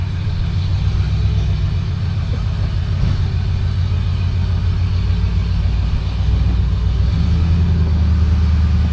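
A 1972 Buick LeSabre drives along with a steady, loud low engine rumble and road noise heard from inside the car, continuous with no talk.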